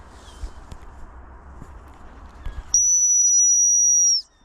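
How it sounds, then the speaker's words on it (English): After a few seconds of quiet outdoor shuffling and footsteps, a gun dog sit whistle sounds one long, loud, steady blast close by, then stops sharply. "So I need to get my sit whistle in."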